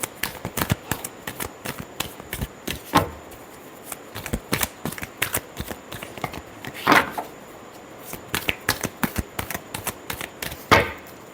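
Tarot cards are shuffled by hand in quick bursts of crisp riffling snaps and slaps, repeated in uneven clusters with short pauses between them, close and clear.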